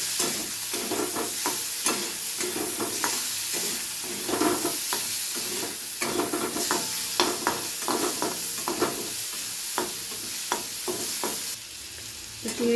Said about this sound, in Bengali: একদম হালকা করে একটু নাড়াচাড়া করে ভেজে নিলেই হবে